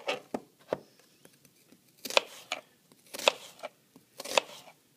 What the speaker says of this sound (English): I like to take my onion and cut it the long way